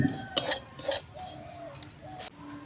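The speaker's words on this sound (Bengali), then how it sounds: "সুজিটা অল্প একটু নেড়ে নেব" Semolina (suji) gets stirred in a little oil in a kadai, with a few scraping clinks of the spoon against the metal pan early on, then quieter stirring under a soft background hum.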